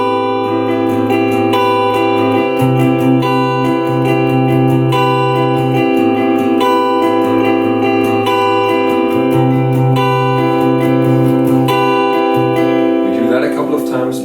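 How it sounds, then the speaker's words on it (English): Guitar strumming pattern for a song, with the weight on the lower strings; loud, close, rhythmic strums ring out over sustained chords. "the special thing about the strumming pattern is that we focus more on the lower strings"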